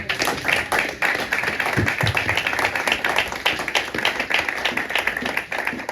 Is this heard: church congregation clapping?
yes